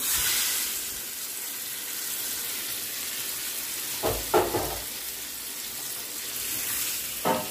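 Hot oil tempering is poured over tomato and coriander chutney made with dried red chillies and curry leaves, giving a steady soft sizzle with a few sharper bursts and scrapes partway through.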